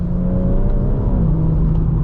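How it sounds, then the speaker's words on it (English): BMW M140i Shadow Edition with the B58 3-litre inline-six engine accelerating, a steady close engine drone with a rising tonal whine throughout, no voices. "this is the B58 engine. It's a 3-litre inline 6-cylinder engine"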